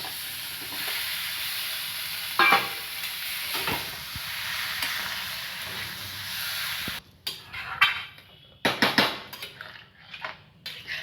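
Potatoes go into spices fried in oil for a homemade Mughlai-style dish: a loud, steady sizzle fills the first part, then it drops away as a metal spoon scrapes and clanks against the pan in uneven stirring strokes.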